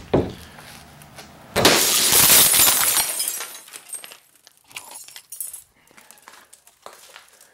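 A glass door is smashed out for scrap metal: a loud burst of shattering glass lasting over a second, followed by scattered tinkling and clinking of falling shards, with faint handling noise before it.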